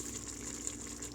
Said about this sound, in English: I'm just gonna add a little bit of the water